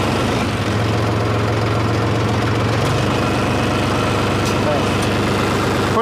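A Mahindra 275 tractor engine running steadily at about 1000 RPM, a continuous loud low rumble with a steady mechanical throb from start to finish.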